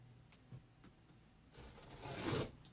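Scissors snip through burlap ribbon for wreath ruffles, a few soft crisp cuts followed by a longer rasping slice, close and quiet with no talking.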